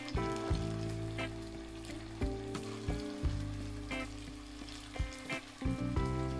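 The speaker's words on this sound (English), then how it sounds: "now that the oil is very hot, we can add in our little meatballs now" Small meatballs frying in very hot oil in a small pan, a steady close sizzle and crackle with bursts of spatter as they are added, over a constant hum.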